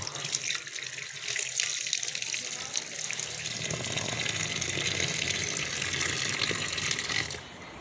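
Food is rinsed under a running tap, a loud continuous gush of water close by that grows fuller partway through as the food goes under the stream, then cuts back near the end.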